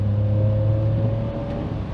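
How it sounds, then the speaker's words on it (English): A Daihatsu Sirion car accelerates with a steady, fairly loud engine drone and a constant whining tone, holding an even pitch throughout without any clear rise in revs. "Accelerate into second"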